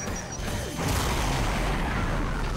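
A loud, dense explosive blast from the Brutal Doom mod for Doom, with crashing, rumbling debris that swells after a moment and sustains through the end, no voices.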